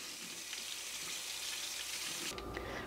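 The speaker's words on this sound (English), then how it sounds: "I'm going to rinse off my filter." Running tap water rinses a Keurig K-Supreme coffee maker filter, a steady close hiss of flowing water that shifts to a fuller splashing tone near the end.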